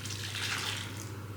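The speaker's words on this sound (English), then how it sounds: "And then I'm gonna add a cup of boiling water." A cup of boiling water poured into a jug during home meal prep, a steady soft splashing gush that runs for the whole short moment at low volume.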